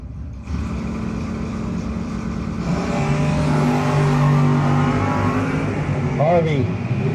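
A 1979 Le Mans drag car roars off the line at a drag strip, engine rising loudly and holding a strained high drone, with an announcer talking over it.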